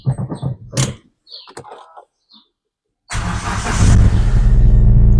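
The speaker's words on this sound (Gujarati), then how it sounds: "આના માટે મિત્રો ગાડી ચાલુ કરવી પડશે" A car engine is started to power an electric tire-inflating pump. After brief handling clicks and a quiet pause, it starts abruptly and settles into a loud, steady, close-up idle.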